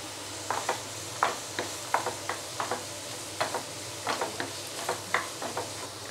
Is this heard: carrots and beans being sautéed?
yes